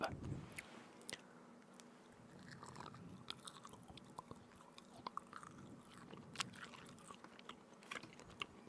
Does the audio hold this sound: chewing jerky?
yes